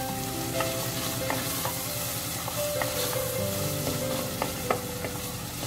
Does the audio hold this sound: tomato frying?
yes